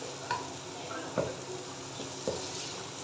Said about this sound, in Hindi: अभी गाजर को 2 से 3 मिनट के लिए तेज़ आंच के ऊपर फ्राई करेंगे।